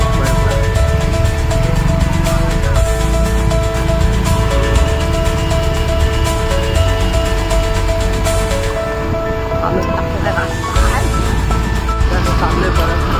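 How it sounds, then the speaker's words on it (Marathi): Road traffic near Mangaon rumbles past in a continuous low wash of engines and tire noise, fairly loud and close, with people talking over it. "ट्रॅफिक आहे"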